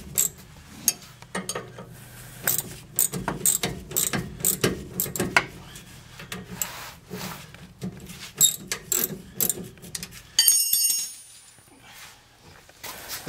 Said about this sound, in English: So I'll just loosen up these two clamps and see if I can spin that collar to get my adjustment out of it.